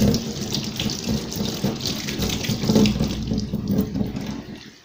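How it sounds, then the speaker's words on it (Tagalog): Hands are washed under a running tap at home: a steady, close splash of water with rubbing and sloshing textures, and no talking. "kailangan natin munang maghugas ng kamay"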